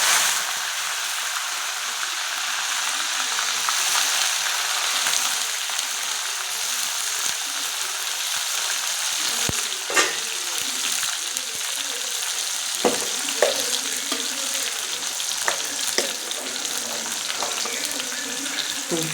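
Shallots, garlic, curry leaves and coriander sizzle steadily in hot oil in a pan for an egg gravy, a continuous frying hiss broken by a few sharp clinks and stirring scrapes.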